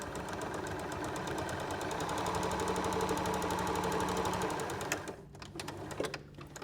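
A sewing machine runs steadily, stitching scant-allowance seams along drawn lines on chequerboard quilt blocks, with a continuous close motor hum that stops near the end, leaving a few faint clicks and handling sounds.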